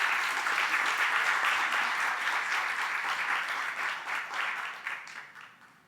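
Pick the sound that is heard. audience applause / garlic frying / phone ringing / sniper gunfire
audience applause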